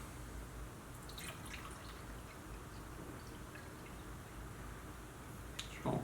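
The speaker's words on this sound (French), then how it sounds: "je vais mettre de l'eau une première fois dans la pyramide" Water is poured into a pyramid-shaped container during a volume demonstration, giving a quiet, sparse trickle and a few faint drips over a low steady background hiss.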